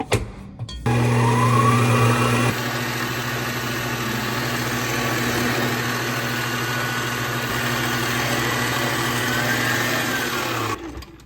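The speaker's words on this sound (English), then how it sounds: "I'm just gonna use the stand mixer we have." A stand mixer whirs steadily, creaming butter and sugar for a vintage-style cake. It starts with a louder surge, then settles into an even motor drone for about ten seconds before cutting off.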